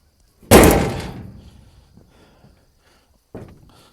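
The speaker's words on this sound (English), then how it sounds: "close the door." A door swings shut with a single loud slam that rings out and decays over about a second, followed by a quieter second thump near the end, in a farm setting while prepping for harvest.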